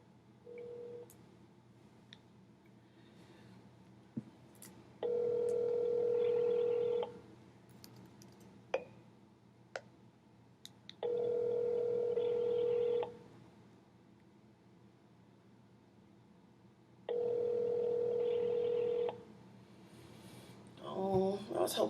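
A telephone call goes out: a brief burst of keypad dialing tones, then three long ringback tones separated by pauses of silence, clear and close.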